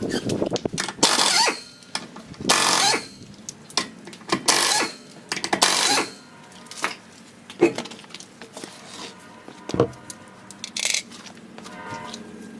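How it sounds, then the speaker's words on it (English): A pneumatic impact gun removes lug nuts from a car wheel during a disc brake pad job, firing in loud, close bursts of rattling hammering separated by short pauses, with a few sharp clanks in between. "We got our gun. Let's go ahead and get these lug nuts off."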